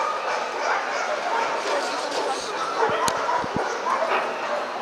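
Italian Greyhound yipping and barking at a European dog show in Paris, a few short sharp barks near the middle amid steady crowd murmur and hall noise.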